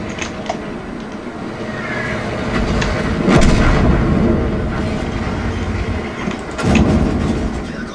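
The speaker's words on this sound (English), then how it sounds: "And one of the artillery kills me." Tank-battle video game artillery fire: heavy booming shell blasts and gunfire crack out over a rumbling engine drone, with a couple of louder impacts standing out, no voices.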